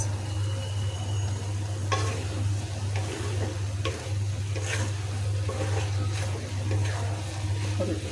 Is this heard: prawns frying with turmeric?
yes